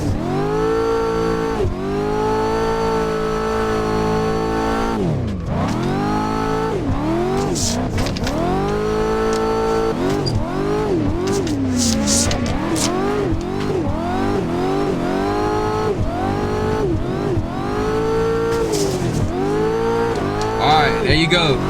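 Car drifting at Brooklyn Park at night in Assetto Corsa, a loud engine revving hard and rising and falling in pitch with tire squeal and skids throughout, a constant high-pitched racing drone.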